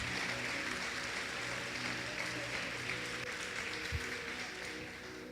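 Applause from a church congregation in worship, a steady broadband wash of many hands clapping at moderate distance, sustained for several seconds and slowly tapering, with no speech over it.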